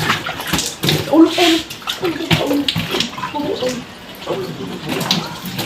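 Water pours and splashes over a dog during an outdoor bath, sloshing in bursts beneath people talking nearby.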